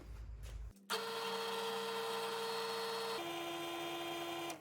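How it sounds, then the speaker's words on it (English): A power drill bores holes into a guitar fretboard for inlays, starting with a sudden steady high whine after a short quiet lead-in and a slight pitch drop partway through, running loud and close. "I'm ready to drill."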